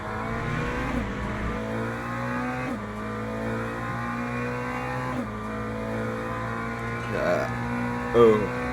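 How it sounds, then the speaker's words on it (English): A McLaren GT3 car in the Le Mans Ultimate racing game heard from the cockpit, with a steady engine drone shifting pitch through gear changes and a rough grinding buzz from the ABS under braking, ending with a short squeal. "now we'll go back to the cockpit view of the McLaren, and now you can hear it, and it's ABS wanting to grind itself"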